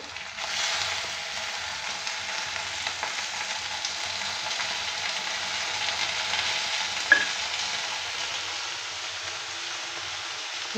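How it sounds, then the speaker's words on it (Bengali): Snails fry with onions in hot oil, sizzling and crackling steadily for several seconds, with one brief sharp tap partway through. "এবার আমি এর মধ্যে দিয়ে দেবো শামুকটা। এটা একটু ভেজে নিতে হবে।"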